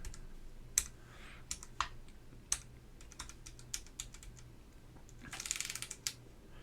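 Switches on a Baron Boards BP-One mechanical keyboard are pressed one by one, crisp close clicks spaced irregularly, ending in a quick rattling burst of keystrokes, with no talking.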